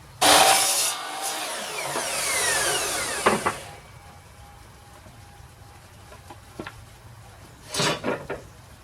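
A power saw cuts a wood casing board for a wardrobe cabinet build, a loud close whine that spins up sharply, runs for about three seconds and winds down, followed by a few light knocks.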